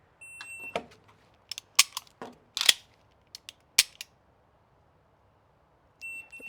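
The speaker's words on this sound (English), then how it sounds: "So you would just dry fire." Several sharp, dry clicks from repeated dry-fire trigger pulls on an unloaded pistol, spaced irregularly and fairly close, with a faint electronic beep at the start and end.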